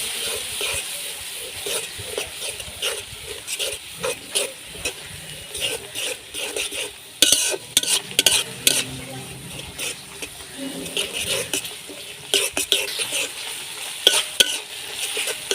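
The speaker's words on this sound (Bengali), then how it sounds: "লাল মরিচের গুঁড়া, অল্প জল দিয়ে মশলাটা ভালোভাবে কষিয়ে নেব।" Spice paste with red chilli powder and a little water stir-fried in a pan, repeated scraping strokes of a spatula over a steady sizzle, with a burst of busier stirring midway.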